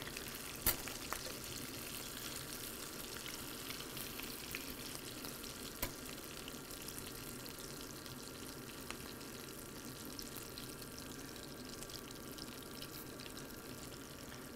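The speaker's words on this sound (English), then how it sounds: "So as these are frying, let's just give them a little push." Onion and egg frying in a pan, a steady broadband sizzle that runs through the whole stretch with a few sharp clicks and taps from the pan, close and even in level with no talking.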